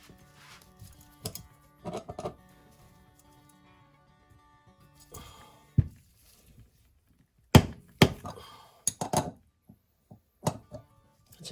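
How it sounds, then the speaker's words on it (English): A bearing puller works a bearing off a raw water pump, giving scattered sharp metallic knocks and clicks in irregular bursts with quiet gaps between them. "That's how bearing puller should work."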